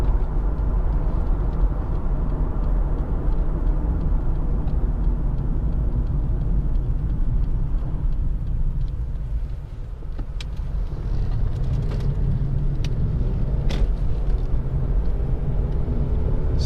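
A Lexus IS 250 2.5 SE saloon accelerates hard on a straight track, a steady loud engine drone and road rumble heard from inside the cabin, easing briefly midway before building again.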